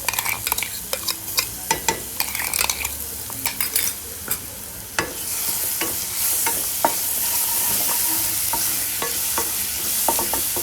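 Ground green chilli paste sizzles and fries in a pan for a dill leaf vegetable dish, with repeated scraping stir strokes over a steady hiss that grows louder midway.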